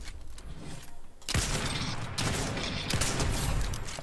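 Rapid bursts of gunfire in the video game Fortnite, a dense fusillade of loud close shots with booming impacts that keep going without a break, no talk over them.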